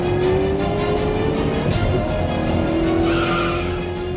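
A motorbike ridden recklessly during a chase roars close by with a sustained engine whine and squealing, skidding tires, the pitch rising and falling over a few seconds.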